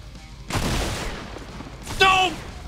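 A burst of gunfire from the game Fortnite, broadband and sustained for a couple of seconds, followed by a brief sharper tonal blast.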